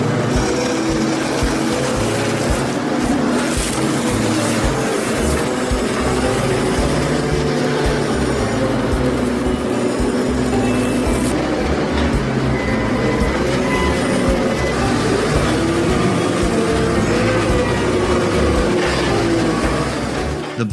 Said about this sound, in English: The JCB Loadall 53860 forklift with a 155 horsepower engine and sturdy cutting machine helps transport and handle materials